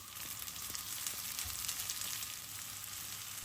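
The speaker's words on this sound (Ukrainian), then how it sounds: "наливаємо соняшникову олію, беремо цибулю та висипаємо її смажитись" Onions fry in hot sunflower oil with a steady, close sizzle and soft crackling throughout, with no talking.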